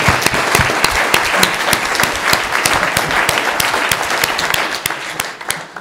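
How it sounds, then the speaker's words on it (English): Loud, dense audience applause at a sustainability conference, many hands clapping steadily throughout before tapering slightly at the end. "give a very strong, big round of applause"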